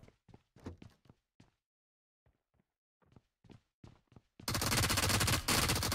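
Gunfire in the shooter game PUBG Mobile: scattered bursts of shots over the first few seconds, then a loud, sustained blast of continuous firing or explosion noise to the end.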